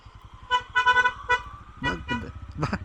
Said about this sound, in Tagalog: Ganda ng busina niya.